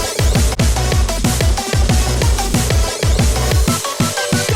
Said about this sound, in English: it sounds like this snare has like multiple transients